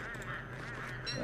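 Pengull birds squawking in the video game Don't Starve, a quiet, continuous honking goose-like call that wavers in pitch and lasts just over a second, with no talk over it.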